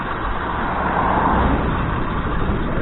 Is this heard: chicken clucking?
no